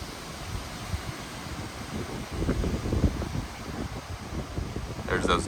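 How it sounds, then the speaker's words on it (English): Gusty wind from Hurricane Helene roars outdoors in the dark, rising and falling in broad surges with steady low rumble and buffeting against the microphone. "There's those gusts."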